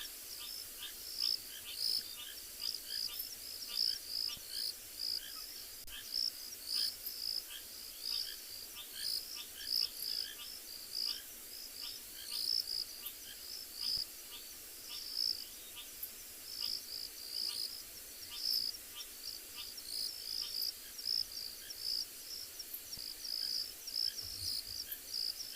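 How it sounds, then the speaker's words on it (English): A dense night chorus of rain frogs, countless short high chirps repeating constantly, faint and spread into the distance. "Beautiful sound of all the rain frogs."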